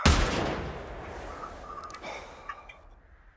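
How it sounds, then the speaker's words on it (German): A single loud, sharp rifle gunshot in the hunting video game The Hunter, with a punchy low-end burst at the start, followed by a decaying tail and a few faint tonal blips afterward. "Das war ein guter Schuss"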